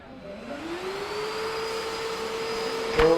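A vacuum cleaner motor spins up and settles into a steady, fairly loud whirring hum with a high tonal whine, ending in a brief sharp knock.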